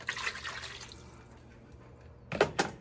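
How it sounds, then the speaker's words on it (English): Water is poured into a pan of Japanese chicken curry: a splashing stream for about a second, then a quiet stretch, then two short, louder splashes near the end. Nobody speaks. "So we're going to add our water"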